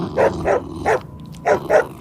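A dog barks sharply five times in quick succession, close and loud, with a brief pause between the third and fourth barks.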